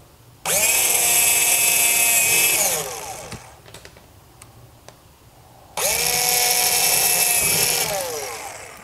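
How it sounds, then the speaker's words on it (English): A power drill bores holes in a bass drum shell, whining loudly in two long sustained runs separated by a quieter gap with a few sharp clicks and taps. "We're gonna drill all the holes out"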